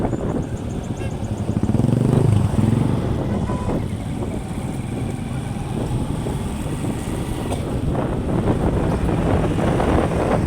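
A group of motorcycles rides past on a road as a continuous engine roar mixed with heavy wind buffeting, swelling and fading as the bikes pass.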